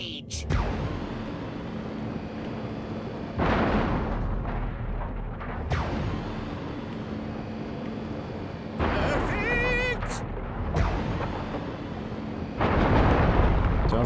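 Buildings blown apart by gunfire in Destroy All Humans erupt in repeated heavy booms and rumbling blasts, with dense explosion noise returning every few seconds and a brief whistling tone partway through.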